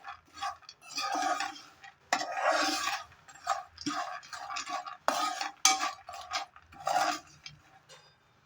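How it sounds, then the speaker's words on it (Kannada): Congress peanuts are stirred and fried in a pan, with close, repeated bursts of scraping and rattling as the spoon pushes the nuts around, separated by short pauses. "ಚೆನ್ನಾಗಿ ಮಿಕ್ಸ್ ಮಾಡಿ 1-2 ಮಿನಿಟ್ಸ್ ಹಾಗೆ ಫ್ರೈ ಮಾಡ್ತೀನಿ"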